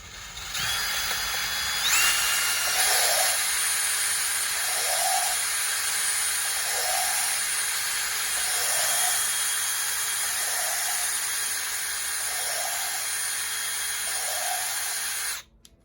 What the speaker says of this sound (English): So right here I have the drill in.